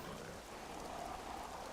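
Steady rain from the video game Diablo 3, a constant soft wash of falling drops with no breaks, fairly quiet and unaccompanied by any voice.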